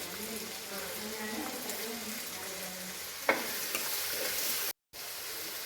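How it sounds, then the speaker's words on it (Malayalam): Curry leaves and salt go into onions frying in a pan for beef curry, giving a constant close sizzle with one sharp clink partway through and a brief cut-out near the end. "കുറച്ച് ഉപ്പിട്ട് കൊടുത്തു പിന്നെ അയ്യോ അറഞ്ചം പുറഞ്ചം നമ്മുടെ കറിവേപ്പില അതുകൂടെ ഇട്ട് കൊടുക്കുക"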